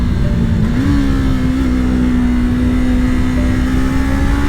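A Yamaha YZF-R3 motorcycle engine revs hard while being ridden, a loud continuous high-rpm drone that rises slightly and holds steady, close up with wind noise and no talking.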